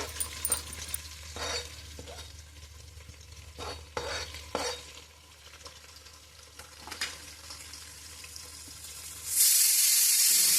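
Chopped onions fry in a hot Indian tempering (tadka), giving a steady close sizzle with occasional stirring clatter, then a sudden louder hiss near the end. No one speaks.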